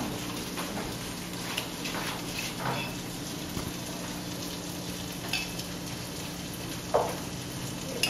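Kitchari frying in ghee in a pan, a continuous fine crackling sizzle with scattered louder pops and the scrape of stirring, close and steady with no talking.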